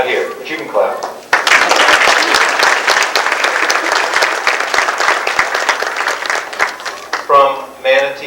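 A banquet audience claps loudly for an award recipient, dense applause swelling for several seconds and then tapering as a speaker's voice comes in at the start and again at the end.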